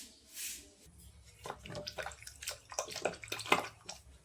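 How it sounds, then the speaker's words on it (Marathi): Water is poured and splashed into a curd kadhi mixture in a pot, giving soft, irregular sloshing and trickling bursts at close range, fairly quiet. "थोडंसं पाणी ॲड करायचं याच्यामध्ये."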